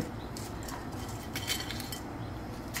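Dry spices and whole red chilies tipped into a hot pot over a lowered flame for bhuna khichuri. Soft rustling with a few light metallic clinks against the pot, close and quiet, with no talking.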